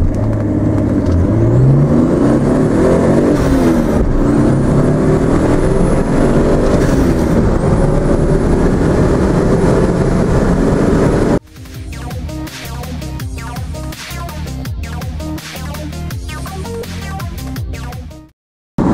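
A turbocharged ZX fitted with an intercooler pulls hard, its engine drone and turbo whine climbing steadily for several seconds before a sharp shift into a rougher, pulsing roar that runs on loud and close and then cuts off abruptly.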